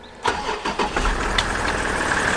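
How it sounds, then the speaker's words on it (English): A rebuilt, crash-damaged Range Rover's engine cranks briefly and catches, then settles into a smooth, quiet idle close by. "having a car start up which doesn't make a racket of a sound with its exhaust"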